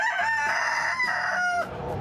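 A rooster crows once, loud and close, in a single drawn-out call that fades at the end.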